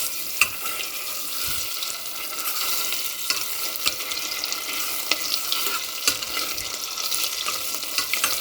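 Tomato paste hitting a hot pan for Turkish lentil soup, giving a steady close sizzle and frying hiss with light stirring scrapes and small clicks, with no voices.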